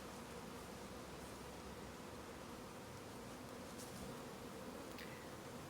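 Honey bees buzz in a soft, steady drone while a hive is being installed, a faint continuous hum with no voices.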